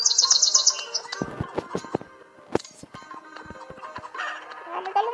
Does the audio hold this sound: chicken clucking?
yes